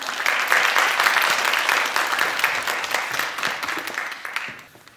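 An audience at a Korean customs broker exam briefing session applauds to welcome a lecturer, a strong, steady round of clapping that gradually thins and dies away at the end.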